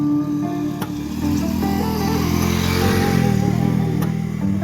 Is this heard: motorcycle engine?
yes